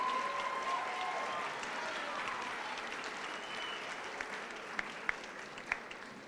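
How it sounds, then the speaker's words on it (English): Audience applause at Wallace Intermediate School's 2019 graduation ceremony, a steady wash of many hands clapping that fades gradually, with a few sharper individual claps standing out near the end. "Now you can clap."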